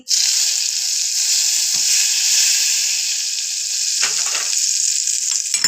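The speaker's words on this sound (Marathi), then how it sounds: "हे बघा आता आपलं तेल पण चांगलं गरम झालंय आता या मसाल्यामध्ये आपण टाकून घेऊ" Masala dropped into hot oil for Korean-style noodles crackles into a loud, steady sizzle that runs unbroken from start to finish, with a couple of brief stirring knocks near the end.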